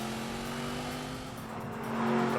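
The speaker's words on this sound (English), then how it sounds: "it's a meaty engine with lots of low down grunt" A BMW 8 Series engine drones in The Grand Tour video game, a steady low mechanical hum with a clear tonal note, rising slightly in loudness near the end as the car pushes on.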